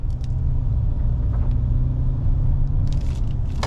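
A used Kia Carnival 7-seat limousine minivan drives along on a test drive with a steady low rumble of engine and road noise, close and constant, with a few faint clicks and scrapes.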